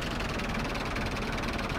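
A modded tractor engine idles in Farming Simulator, giving a steady, continuous low rumble with no change in pace and no voices.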